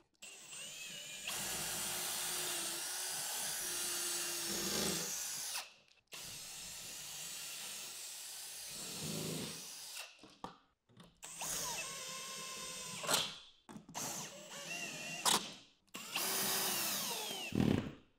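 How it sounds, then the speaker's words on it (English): A hand ratchet clicks in quick bursts while tightening toggle bolts on a TV wall mount indoors, with close, sharp mechanical ratcheting, brief pauses and rustling handling noises between strokes. "we're just gonna tighten up the toggle bolts and do these 2 in the bottom"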